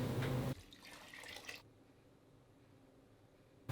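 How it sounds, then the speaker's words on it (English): Cold water pours from a tap into a pot of beans, a loud gushing stream for about half a second, then a softer trickle that stops, leaving quiet drips. "Cover with cold water"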